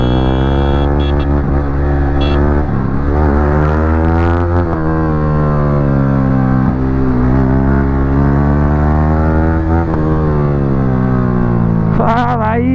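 A motorcycle's raw, loud exhaust drones steadily throughout a Sunday ride, its pitch rising and falling as the rider throttles up and eases off, with brief revs near the end.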